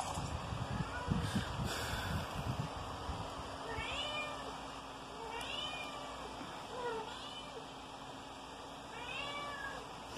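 A cat meows several times in the background of a room during a Fortnite gaming session, with the repeated mews rising and falling over steady low background noise.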